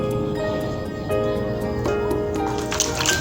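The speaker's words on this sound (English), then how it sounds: "Yeah, so I wash my passion so well, then I store them." Passion fruit are washed by hand in water, giving close, wet splashes, drips and squishy handling sounds over a few seconds.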